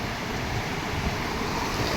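Sea waves wash onto Murud beach as a dense, steady roar of surf mixed with wind buffeting the microphone, continuous and fairly loud with no voices.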